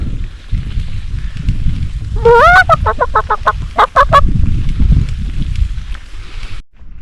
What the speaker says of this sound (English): It's the elusive mountain chicken, otherwise known as the grouse.